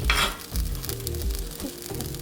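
A veggie wrap sizzles in a hot pan, a steady close crackle with a few soft scraping or shifting sounds, and no one speaking.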